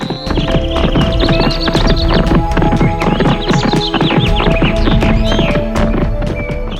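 Rapid hoof clip-clops on hard ground, loud and close, with a horse's whinny and snorts mixed in, continuing steadily without speech.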